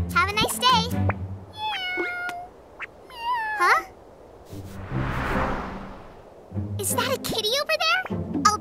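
Cartoon cat meows from a children's animated series, several pitched, sliding meows in short bursts, with character voices talking between them and a swooshing effect in the middle.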